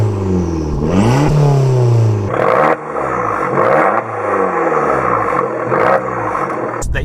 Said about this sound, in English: Number 1 for me, for 5 things I absolutely love about my little 595, would have to be the record Monza exhaust.